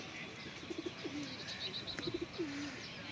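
Pigeons coo softly nearby, a male and a khaki female, giving short repeated triple-note coos followed by drawn-out gliding calls, twice over, faint against a quiet background.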